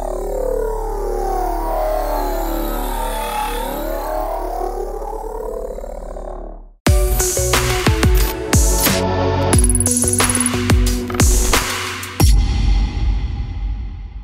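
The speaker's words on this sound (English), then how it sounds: "let's make some kind of robotic Transformer kind of sound" A robotic Transformer-style effect built on the Serum synthesizer: a long sweeping, shifting drone cuts off abruptly, then gives way to loud clanking, glitchy mechanical bursts and metallic stutters, ending in a fading metallic ring.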